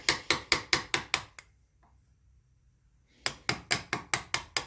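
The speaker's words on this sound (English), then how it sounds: "I found this ridiculously small hammer that works really well for stuff like this." A very small hammer strikes a hard surface in two quick bursts of about six sharp, evenly spaced taps each. A quiet pause separates the bursts, the work being cleanup in an old building.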